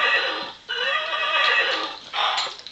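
A horse whinnies in a high, wavering call, likely a toy or ride-on horse a small child sits on, with a second shorter whinny near the end; it sounds close and fairly loud, with no talking over it.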